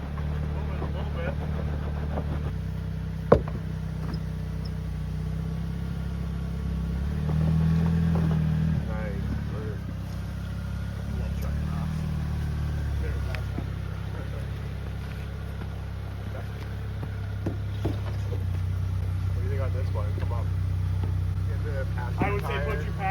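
A Jeep engine turns over slowly with a low, steady rumble while the vehicle crawls over rocks. It stays close and fairly even throughout, with occasional faint knocks, as people talk quietly over it.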